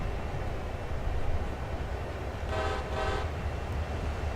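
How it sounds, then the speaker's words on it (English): Freight train horn sounds two short blasts partway through, heard over steady rumbling rail noise from a passing train with coal cars, auto racks and boxcars, fairly distant. "it's always nice to honk at them"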